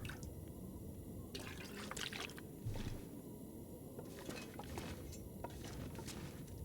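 Water being collected from a toilet in The Long Dark, a survival video game: soft, quiet trickling and dripping liquid with faint splashes over a hushed, noisy background, with no one talking.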